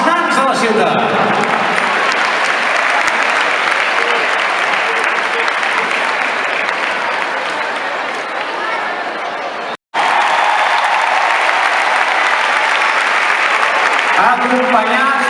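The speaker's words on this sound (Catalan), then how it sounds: "Un aplaudiment pels nans de la ciutat." A large crowd applauds steadily at the Festa Major de Blancs i Blaus ceremony in Granollers, a dense, sustained wash of clapping that carries on with only a brief break.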